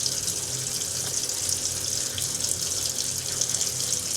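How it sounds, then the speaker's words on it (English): Tap water runs steadily into a sink, rinsing a cyanotype print. It makes a continuous close splashing hiss with no talk. "I'm going to let that rinse."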